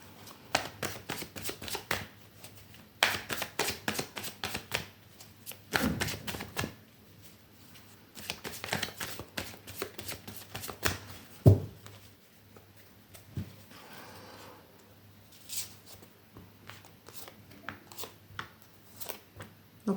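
A tarot card deck being shuffled close by in repeated riffling bursts, each a rapid flutter of card edges, separated by brief pauses and softer handling noises.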